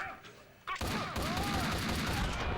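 Gunfire in the Max Payne video game: a short quieter lead-in, then a loud, dense burst of rapid shots that carries on without a break to the end.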